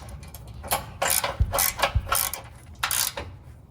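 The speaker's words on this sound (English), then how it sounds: "secure it in place with the 5/8" socket" Ratchet socket wrench clicking as it tightens a nut on an EVO frame-mounted rock slider being installed on a Jeep JL Wrangler Unlimited; five bursts of rapid close metallic clicks, with short pauses between strokes.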